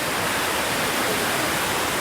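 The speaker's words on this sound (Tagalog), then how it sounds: "Ayan po yung mga baha viewers." Floodwater rushes in a dense, steady roar of broadband hiss with no breaks, loud and close, with no talking.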